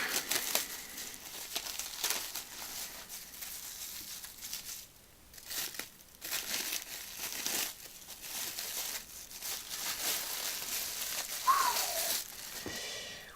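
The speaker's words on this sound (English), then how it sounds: "And so carefully unwrapping this here." Knife packaging being carefully unwrapped, with steady crinkling and tearing of wrapping material that continues through the whole stretch, close and moderately loud, with no talking.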